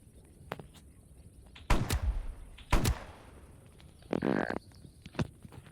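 Gunshots in the video game 99 Nights in the Forest: two sharp, loud bangs about a second apart stand out against a quiet background, followed by a shorter burst of game sound.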